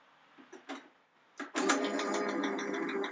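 A kitchen machine shreds zucchini for low-carb zucchini bolognese, its motor starting after a few short knocks and then running in a steady loud whir with the vegetable being fed through.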